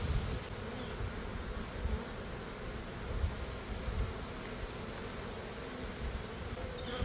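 Honey bees hum steadily at a hive being split into nuc boxes, a faint, continuous buzzing drone that stays even throughout with no voices.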